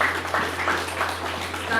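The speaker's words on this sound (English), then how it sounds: "The applause was not loud enough." Applause from the audience at a meeting of retired heads of service and permanent secretaries in Ondo State, a steady, fairly soft patter of clapping with a low constant hum underneath.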